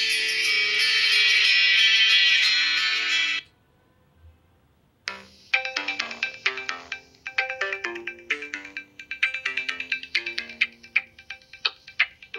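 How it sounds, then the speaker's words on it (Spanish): A Nokia 5800 XpressMusic phone plays its ringtones: a loud, sustained bright tone, a brief pause, then a lively melodic tune of quick, plucked-sounding notes, with no voices. "Estos son algunos de los tonos del celular"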